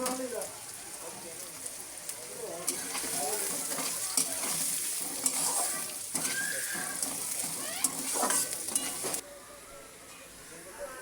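Onion frying in a pan crackles with a dense, steady sizzle under repeated spatula stirring and scraping. Near the end the sizzle drops to a quieter hiss.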